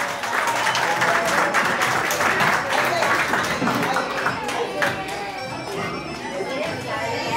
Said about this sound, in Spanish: Así como aplaudimos a Edgar, tenemos que aplaudir a cada uno de los integrantes de la promoción.